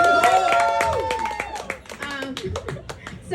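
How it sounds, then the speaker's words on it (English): A comedy club crowd claps sharply and raggedly while voices whoop and call out over it, and the clapping thins toward the end. "Give Jackson a round of applause."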